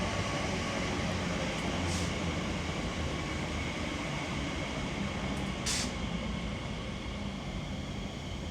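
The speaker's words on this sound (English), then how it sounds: "arriving in now is a TfL Rail Class 345 service coming from either Hayes and Harlington or Terminal 5 to Paddington" A TfL Rail Class 345 electric train pulling into West Ealing station on the Great Western Main Line, a steady broadband rumble and hiss holding at constant loudness throughout, with two brief higher bursts partway through.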